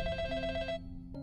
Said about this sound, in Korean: 가게 전화가 울렸다